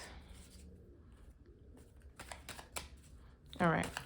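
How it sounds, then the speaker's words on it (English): Tarot cards being shuffled by hand, a series of close, crisp riffling and flicking bursts in the second half, with a louder card-snap near the end and no talk. "I'm being told to do an extra shuffle."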